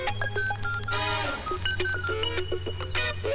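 Mobile phone being dialed, a series of short electronic key tones in irregular rhythm with a brief burst of ringing in the middle, heard over a steady low hum in a quiet room.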